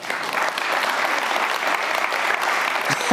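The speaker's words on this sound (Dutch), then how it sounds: "Geef een hartelijk applaus aan Arvid Silos" A studio audience applauds steadily at a Dutch creative event as the evening's last guest walks on, dense even clapping filling the room throughout, with a brief voice near the end.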